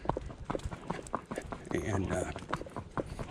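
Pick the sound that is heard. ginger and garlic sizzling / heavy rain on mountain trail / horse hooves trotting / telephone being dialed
horse hooves trotting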